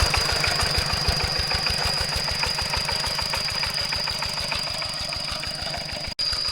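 A steady, close engine idles throughout with a regular low chugging pulse and a thin high whine, running alone without voices.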